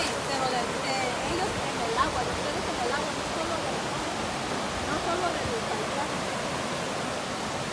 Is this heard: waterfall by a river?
yes